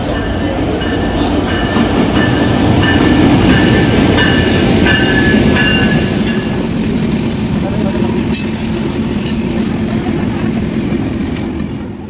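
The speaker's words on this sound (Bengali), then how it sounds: "দুইটা ট্রেনই একসাথে প্ল্যাটফর্মে আসছে" Two trains, one of them the Silk City bound for Rajshahi, pull into a Bangladeshi railway station platform with a loud continuous rumble, wheel clatter and faint squeals, while people talk nearby.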